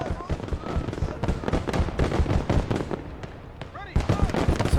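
Grenade blasts and battlefield gunfire in the World War II video game Gates of Hell: Ostfront, a busy stream of cracking explosions and pops over a rumbling background, with voices underneath.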